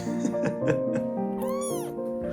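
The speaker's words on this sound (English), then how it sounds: "Tiny cat," A tiny rescued baby kitten meows close up, several short soft cries followed by one longer rising and falling meow, clear and alone.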